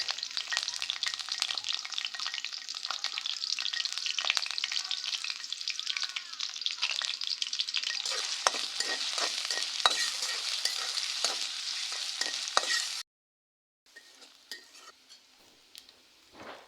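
Green chilies and onions fry in hot oil in a wok, with a bright, steady sizzle and frequent scraping stirs, cutting out abruptly before a quieter stretch of sizzling resumes.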